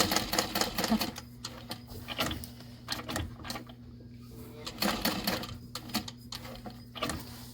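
A sewing machine stitches across the open edge of a Monroe handbag at an eighth-inch stitch length, running in rapid mechanical bursts with short pauses between, close and clear.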